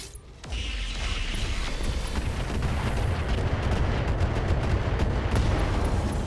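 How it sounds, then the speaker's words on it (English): A loud, dense explosive roar from an LRM ammunition detonation in the RogueTech BattleTech mech game, starting abruptly after a brief quiet moment and rumbling continuously with crackling bursts throughout. "LRM ammo explosion there."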